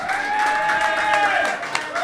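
A studio audience for a racing talk show claps and cheers for an arriving guest, a steady, loud wash of applause with raised voices and whoops throughout.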